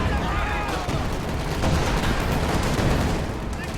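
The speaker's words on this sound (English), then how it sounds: "Panzerfaust connects on the Bulldozer leading the charge." Panzerfaust rocket slams into a Bulldozer tank in a war strategy game, the impact buried in a loud, continuous wall of gunfire, artillery and explosions during a heavy battle.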